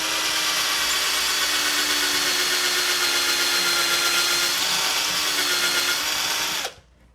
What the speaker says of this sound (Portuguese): Para a broca não correr na hora de você fazer o furo